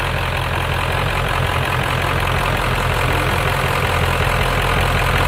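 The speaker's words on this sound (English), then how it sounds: "That's the sound of real diesel." A truck's diesel engine running on conventional diesel idles loudly and close by, a rough, continuous low rumble with clattering knocks throughout.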